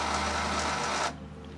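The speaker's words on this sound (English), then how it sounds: "The only thing you're hearing is the contactor buzzing." A trash compactor's contactor buzzes steadily while the motor fails to start, a dense mechanical hum lasting about a second before cutting out to quieter background.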